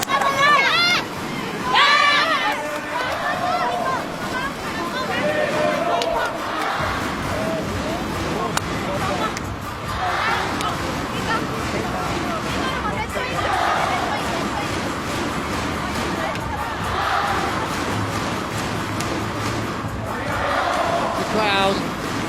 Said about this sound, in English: Crowd